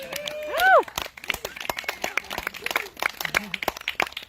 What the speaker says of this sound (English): I think that's a good one for a round of applause.